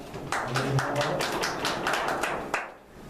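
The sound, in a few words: single hand clap at the start of a video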